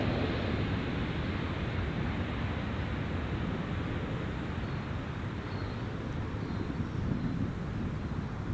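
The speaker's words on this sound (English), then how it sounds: "Your velocity flight departing now, Matt." A Virgin Australia jet departs Gold Coast Airport with a broad, steady roar of engines at a distance, made rougher by wind buffeting the microphone, holding even for the whole stretch.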